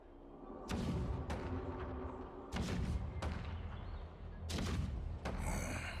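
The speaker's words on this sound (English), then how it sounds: "The rumble of the cannons." Heavy cannon booms and thuds in the video game Honkai: Star Rail fire in an irregular volley, each followed by a low rumbling tail, loud and close, with no talking.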